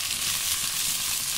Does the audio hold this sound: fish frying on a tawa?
yes